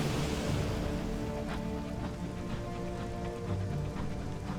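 Rain in the video game Sunless Skies, a steady, soft patter of raindrops over a low ambient wash, continuous and fairly quiet.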